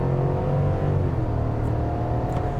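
A 2022 GMC Sierra Denali Ultimate pickup with a V8 engine accelerates at full throttle, heard from the cabin as a steady, deep, droning rumble that builds slightly.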